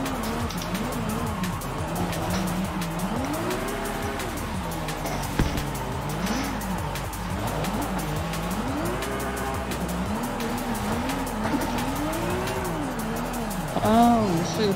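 Car drifting and tandem sliding on a mountain road in Forza Horizon 5, with a steady, rising and falling engine whine and tire squeal throughout, a louder skid near the end, and someone talking over it.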